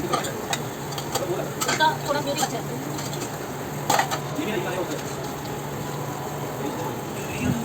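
Dishes are scrubbed by hand at a sink at night, giving soft repeated rubbing and clinking with running water beneath, while someone talks over it.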